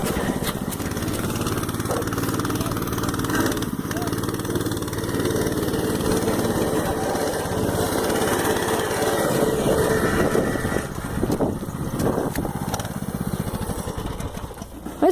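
A small minibike engine runs steadily and close by for the whole stretch, a continuous buzzing drone with slight shifts in pitch and no speech over it.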